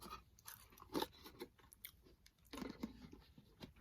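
Close, quiet munching on festive snacks: irregular crunchy bites and chewing clicks, with a couple of louder crunches amid softer mouth sounds and no talking.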